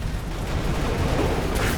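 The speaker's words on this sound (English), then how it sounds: "I just listen to the sound of explosions happening." Explosions in The Riftbreaker game rumble in a dense, continuous barrage of booms and crackles, loud and close, with no voices.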